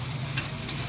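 Ginger garlic paste frying with chicken in a pan gives a steady, close sizzle, with two brief scraping stirs of a spoon against the pan.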